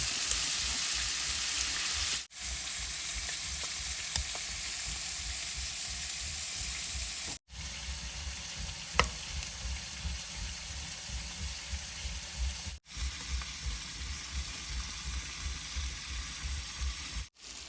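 Continuous crackling sizzle of meat frying in a pan, steady and close, broken by a few abrupt short gaps.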